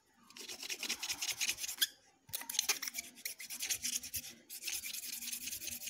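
A handmade Lombok bamboo flute being rubbed and smoothed, steady rasping strokes close up in several long bursts with a brief pause midway.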